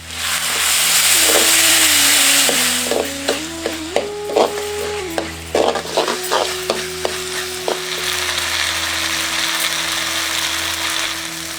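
Loud sizzling of onions and tomatoes frying in hot oil, with rhythmic scraping and clinking of a spoon stirring the pan, and a steady hum underneath.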